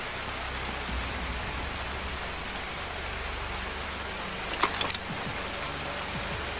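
Steady rain pours in Escape from Tarkov, a dense even hiss that fills the whole clip, with a few sharp clicks and knocks rising briefly near the end.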